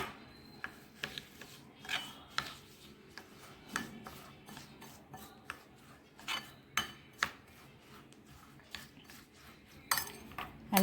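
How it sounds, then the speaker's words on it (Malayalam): Til chocolate mixture is stirred in a pot, with a spoon clinking and scraping against the metal in repeated irregular taps and rubs, fairly quiet and close. "അപ്പോൾ ഇത് നല്ലപോലെ ഇളക്കിയെടുക്കുന്നുണ്ട്."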